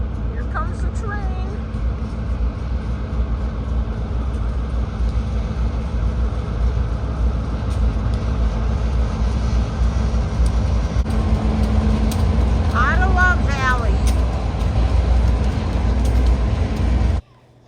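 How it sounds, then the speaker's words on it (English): A train rolls past on a trip through Wisconsin toward Sault Ste. Marie, a steady loud rumble holding for about seventeen seconds, with a couple of brief squeal-like rises and chatter in the background before it cuts off abruptly. "Here comes the train."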